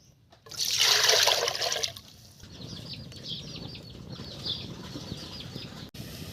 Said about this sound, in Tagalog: Lagay tayo ng tubig